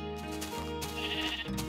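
Sheep in the video game Minecraft gives a single wavering, nasal bleat, close and clear with no talking.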